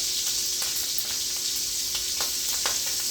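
Chicken and shrimp sizzle in a pan with a steady, bright hiss, broken by scattered small pops and crackles throughout.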